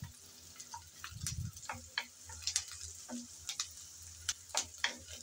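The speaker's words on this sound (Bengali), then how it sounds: "আমি কিছুক্ষণ নেড়েচেড়ে পেঁয়াজ ভেজে নিলাম।" Onions frying in oil in a pan, a close, quiet sizzle with a steady run of crackles and light ticking pops, plus a brief low stirring scrape, with no voices.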